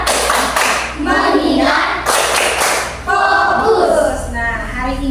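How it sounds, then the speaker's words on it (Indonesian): Classroom of pupils doing a rhythmic focus clap routine, loud patterned bursts of clapping alternating with chanted words from teacher and children, close and lively. "Sekarang kita akan tepuk fokus dulu. Tepuk fokus."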